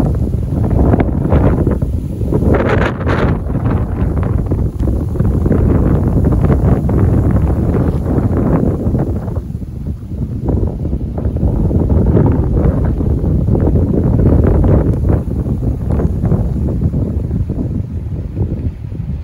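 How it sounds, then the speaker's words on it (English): Strong outdoor wind buffets the microphone in loud, continuous low rumbling gusts that surge and ease over nearly twenty seconds, with no speech. "Oh, it's windy."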